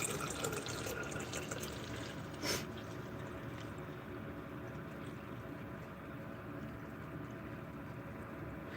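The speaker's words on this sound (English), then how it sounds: "time for the half gallon to start filling up" Water pouring steadily into a half-gallon container, a continuous wash of splashing and rushing that holds even for the whole stretch, with one brief brighter burst near the start and no talk.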